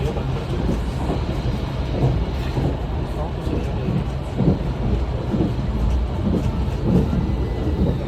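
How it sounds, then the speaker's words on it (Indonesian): The Argo Wilis Panoramic passenger train runs fast on double track near Cicalengka, a continuous rumbling roar with rhythmic wheel clatter heard from inside the carriage. "Kecepatan kereta api Argo Wilis setelah stasiun Cicalengka di double track ini ngebut sampai 100 km per jam"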